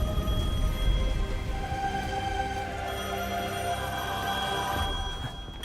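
Telephone ringing in the video game Devil May Cry 5, a continuous electronic ring with steady tones sounding alone for several seconds at moderate level.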